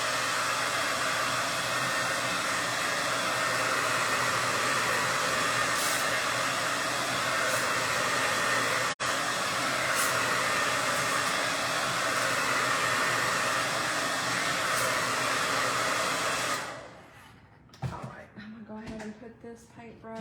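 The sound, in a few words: blow dryer drying paint on candy corn pumpkin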